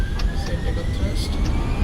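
Airliner engines spool up to takeoff thrust in a flight simulator on a run from Krabi-area VTUK to Bangkok VTBD, a steady roar with a slowly rising whine beneath people talking.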